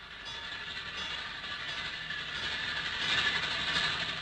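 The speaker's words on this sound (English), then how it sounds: "Hear the train?" A train rolls past a railroad crossing in a 1946 horror film, heard as a faint, steady rumble with a high, ringing metallic hiss that swells toward the end, with no voices.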